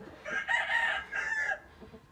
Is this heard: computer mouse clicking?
no